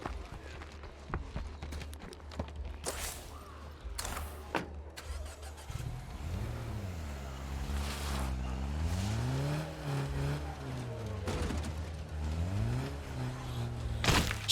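A car in a video game starts, then drives and accelerates, its engine tone rising and falling in waves over several seconds. Clicks and knocks come first, and the engine stays loud and close.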